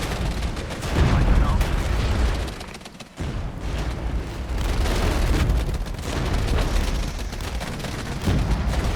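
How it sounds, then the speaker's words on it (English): Enemy artillery shelling on a battlefield in the strategy game Regiments, with dense rumbling booms and blasts rolling continuously across the whole stretch, one brief lull near the middle before the barrage resumes loud and close. "Enemy artillery has found us though"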